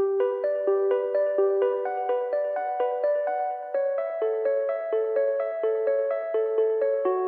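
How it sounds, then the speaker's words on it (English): A bright, bell-like synth pluck plays quick repeating arpeggiated notes in a steady bouncing pattern, clear and alone. "Next is kind of like a bell type of pluck that I used as an ARP."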